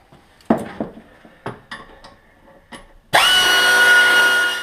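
A CFMoto clutch cover gets worked on: metallic clinks and taps of bolts and tools come first, then a power tool whirs loudly and steadily up close.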